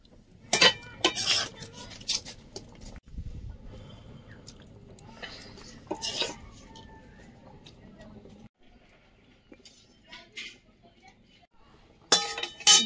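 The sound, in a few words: ladling food into a pressure cooker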